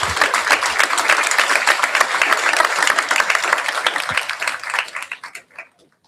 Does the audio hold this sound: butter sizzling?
no